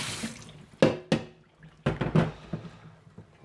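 Tap water runs into a kitchen sink as something is rinsed out for a homemade salsa, with several splashing surges and knocks close by, no voices.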